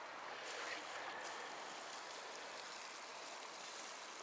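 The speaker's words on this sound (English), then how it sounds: "So I'm just going to water these with a fine rose." Water from a fine-rose watering can sprinkles onto freshly sown parsnip seeds at an allotment, a steady soft hiss of droplets lasting throughout without talk.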